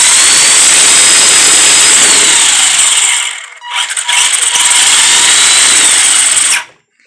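An Arrma Granite RC car with an upgraded motor and ESC screams at high pitch, close and very loud, dips briefly near the middle, surges back and then stops sharply.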